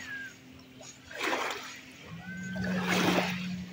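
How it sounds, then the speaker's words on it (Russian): Small sea waves splash against the shore at Taman on the Black Sea coast, two soft surges about a second and a half apart, close by and fairly quiet, with no talking. "Сейчас поднялись такие небольшие волны."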